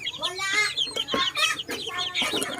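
Backyard Shamo and Silkie chickens cluck close by in quick overlapping bursts, several birds calling at once in an uneven, chattering rhythm.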